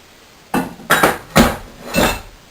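Savory cream cheese scone dough dumped from a bowl onto a cutting board, four distinct knocking thuds in quick succession as the bowl is tapped and shaken, close and fairly loud with no talk.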